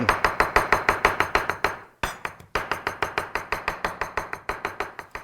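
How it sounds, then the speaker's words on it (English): A kitchen knife chops a handful of fresh parsley on a cutting board: loud, close, steady rapid strokes at a brisk even rhythm, broken by one brief pause midway. "let's just chop this up"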